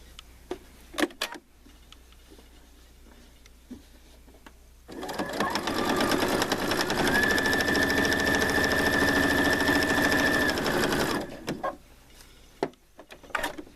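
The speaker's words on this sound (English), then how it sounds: "I'm just pivoting the machine to make sure that all my stitches are pretty straight." A sewing machine stitches placemats and napkins in one sustained, loud, rapid whirring run of about six seconds, framed by quieter handling taps and clicks before and after.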